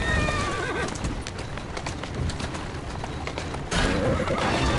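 A horse in the video game Assassin's Creed Syndicate whinnies loudly over steady hoof clip-clops and a dense rumbling background, with a second whinny near the end.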